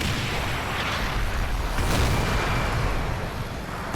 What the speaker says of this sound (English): That's some heavy artillery fire going on.